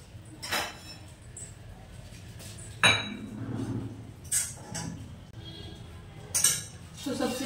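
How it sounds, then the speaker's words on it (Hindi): Dishes and utensils clatter and clink in a kitchen as they are emptied for soaking, with scattered metallic knocks and scrapes over a steady background hum, fairly close by. "सबसे पहले बर्तन खाली करेंगे और भिगोएंगे"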